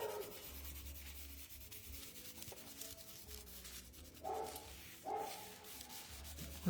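Soft, faint rubbing as a layer of basic white card is pressed and rubbed by hand over bubble wrap for a card-making background, a quiet continuous scuffing with a few slightly louder strokes.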